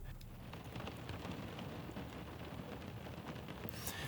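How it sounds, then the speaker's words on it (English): Rain falling outside: a faint, steady hiss of rain on surfaces that runs unbroken throughout, distant and soft. "Now, it's currently raining outside,"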